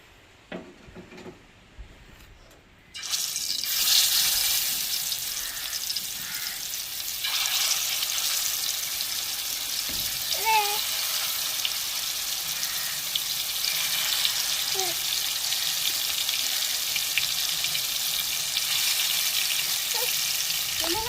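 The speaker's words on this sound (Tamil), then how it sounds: "மீன் பொரிக்க தோசைக்கல் அடுப்பில் வைப்போங்க" Fish sizzles and crackles steadily in hot oil on a dosa griddle, a loud continuous frying hiss that starts after a quiet moment and keeps going.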